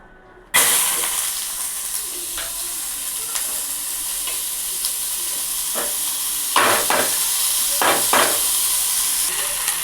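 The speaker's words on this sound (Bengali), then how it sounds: "কড়াইতে একদম একটুখানি তেল দিয়েছি, তেলটা গরম হলে এবারে সবজিটা দিয়ে দেবো।" Chopped papaya, pointed gourd and ridge gourd hit hot oil in a wok with a sudden loud burst of sizzling that stays strong, broken by several sharp stirring scrapes.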